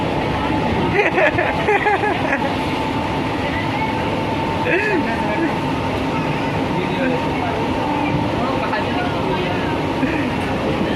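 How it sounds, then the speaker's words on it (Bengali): Steady rumble and rattle of a moving local train carriage, with a crowd of passengers chattering throughout. "এখন আমি আসছি লোকাল ট্রেন জার্নিতে"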